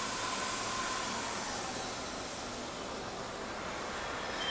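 Steady, loud broadband whir and hiss of a poultry feeding trough roll forming line running continuously, a constant mechanical noise without pauses or talking.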